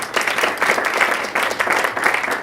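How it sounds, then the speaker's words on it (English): Audience at a business talk applauds steadily. The clapping is dense, sustained and fairly close, with no pauses. "the guys at Rise, I think deserve a round of applause"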